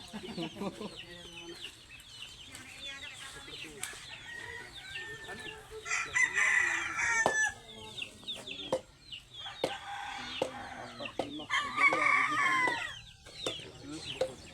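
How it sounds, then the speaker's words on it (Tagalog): Chickens cluck and a rooster crows in a farmyard, with the crowing rising clearly twice over steady clucking and faint talk in the background. "Chicken."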